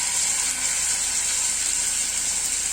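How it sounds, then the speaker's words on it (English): Steady, loud crackling sizzle of marinated chicken pieces frying in a very hot pan, continuous and close with no voices. "See, it's sizzling, which means that your pan is really hot"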